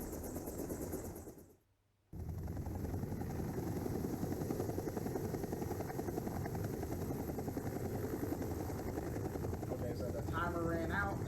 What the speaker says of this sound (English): Timer ran out, and the helicopter, well, is trying to leave.